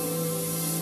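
A Badger Omni 3000 siphon-fed dual-action airbrush sprays in a steady, even hiss with a faint hum beneath, continuous and close for under a second.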